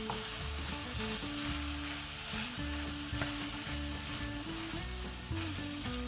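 A Westernpfanne with pepper and Sambal Oelek fries and sizzles steadily in a pan, with stirring scrapes and clinks throughout, loud and close, no voices.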